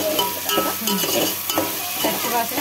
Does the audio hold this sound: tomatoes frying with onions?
yes